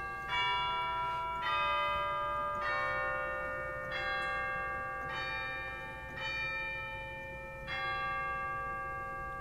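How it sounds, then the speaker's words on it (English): Chimes of a Kilgen pipe organ in St. John Nepomuk Church, St. Louis, Missouri, struck about six times at uneven intervals, each a bright, ringing bell-like tone that sustains and overlaps the next, loud and close with no talking. "there's some chimes in there as well"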